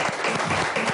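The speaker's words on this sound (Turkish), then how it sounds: "şöyle kuvvetli bir alkış veriyorum sizlerden" Strong audience applause at a Turkish stage show with a saz ensemble, dense steady clapping filling the whole second with a few brief voices underneath.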